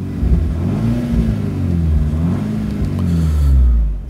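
A 2015 VW Golf R Cabriolet pulls hard in sport mode, its engine note rumbling and climbing steadily as it accelerates, loud and close without any talking.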